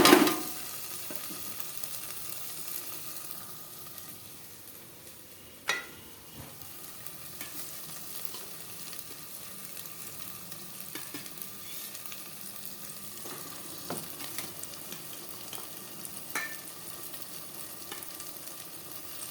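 Mutton fries in spiced oil while being stirred in a pan, a continuous sizzle with scraping and clinking of the spoon, loud at the start and steady after, with no talking.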